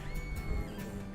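A wild horse on the Outer Banks gives a brief, faint whinny, a thin wavering neigh lasting about a second.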